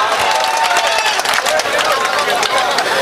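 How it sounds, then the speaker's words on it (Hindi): An audience at an Urdu mushaira poetry gathering breaks into dense, loud applause, a continuous wash of clapping with crowd murmur throughout. "एक बार जोरदार तालियां बजा दें।"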